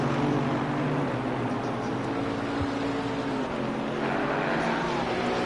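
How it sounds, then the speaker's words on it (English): Race cars in Assetto Corsa Competizione on a rainy Imola circuit, a Porsche overtaking a GT4 car, with a steady loud engine drone and spray-like hiss holding throughout, a low tonal whine shifting slightly as the pass happens. "Oh, a Porsche passing the GT4."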